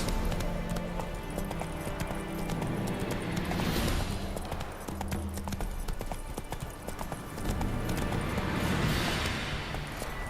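Roach the horse galloping in The Witcher 3, a steady, loud clatter of hoofbeats running continuously through the clip over dense game ambience.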